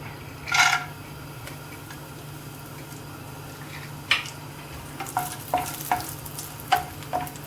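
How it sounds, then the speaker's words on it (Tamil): Cashews roasting in ghee in a pan for rava kesari, with a quiet steady sizzle, a sharp metallic clink of a utensil near the start and several light taps and scrapes of stirring toward the end, close and without talk. "முந்திரியை வறுத்தெடுத்துவோங்க."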